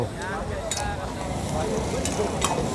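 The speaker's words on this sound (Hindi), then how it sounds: "ये ज़बरदस्त किस्म की कढ़ाई तैयार हो रही है" Mutton karahi cooking in a restaurant wok at Khan Jee Restaurant in North Nazimabad, a continuous sizzle with metal stirring clinks and scrapes, under a voice and background chatter.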